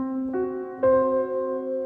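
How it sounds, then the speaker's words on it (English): A tritone chord voiced as two sustained tones, the second entering a moment after the first, ringing together cleanly and alone with a faint low hum underneath. "A tritone is a chord spacing that sounds something like this."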